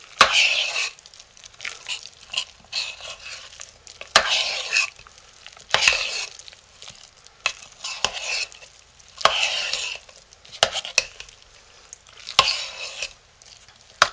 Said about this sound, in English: you want to keep stirring until you can tell that the soap has absorbed all of the essential oils